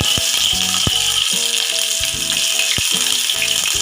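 Crushed ginger hitting hot oil in a pan for poori masala, a loud steady hiss of sizzling with faint irregular ticks and pops, close up and continuous.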